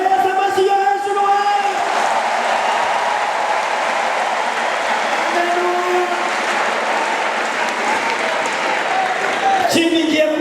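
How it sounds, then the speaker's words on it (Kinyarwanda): A church congregation claps steadily for about ten seconds, a dense roar of applause with a voice heard briefly at the start and end. "duhereza amashyi yo hejuru"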